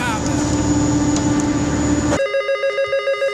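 A telephone rings with a call from the bank, its bell ringing loudly over a busy background of steady hum and noise, then continuing with regular electronic ring pulses once the background cuts out.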